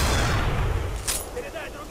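A sniper rifle shot in a cemetery map of a video game, a loud booming blast followed by a fading rumble, then a brief sharp crack.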